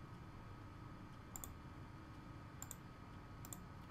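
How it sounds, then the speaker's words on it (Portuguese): Computer mouse double-clicks in a quiet room, three faint pairs of sharp clicks spaced a second or so apart. "Vou dar 2 cliques."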